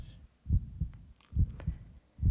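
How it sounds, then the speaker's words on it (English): A muffled heartbeat in a spooky horror tale, deep low thumps in paired lub-dub beats repeating at a steady, slow rhythm, soft and close with a faint high hiss above. "the heart beat on with a muffled sound"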